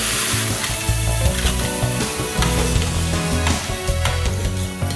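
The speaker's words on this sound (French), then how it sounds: "on fait juste un petit peu suer les légumes" Vegetables gently sweating in a pan before lentils go in, giving a dense, continuous close-up sizzle with small crackles and occasional stirring knocks throughout.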